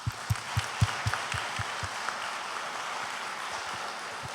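An audience at a public-works talk on the 2030 Agenda claps, with a few strong rhythmic beats at first, then a softer, diffuse patter over a steady hiss.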